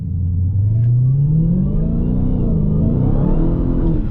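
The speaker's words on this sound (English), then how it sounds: "you really just want to access the sound of that supercharger as soon as you can" Supercharged Dodge Hellcat Jailbreak engine pulls hard from a launch, a loud rising roar with climbing pitch and a steady supercharger whine building over about four seconds, heard alone up close.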